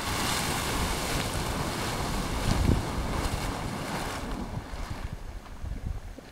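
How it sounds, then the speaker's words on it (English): A Yellowstone National Park geyser erupting, with a steady, loud, rushing roar of spraying water and wind noise that swells briefly midway and holds throughout, with no voices. "It's making more noise, let's see. It's bubbling. Here it comes."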